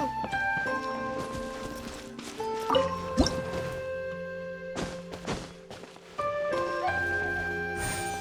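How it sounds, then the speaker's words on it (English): In the video game Genshin Impact, a water droplet pops out of a wall with wet, squishy dripping plops. Tonal chimes and game music play alongside, moderately loud and up close. "Wow, another water droplet just came out from the wall!"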